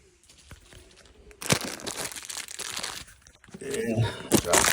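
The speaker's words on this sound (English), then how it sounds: "Remove the paper." Paper crinkles and tears as it is pulled off a Dyna-Glo propane wall heater during installation, with close crumpling bursts that grow louder and rougher toward the end.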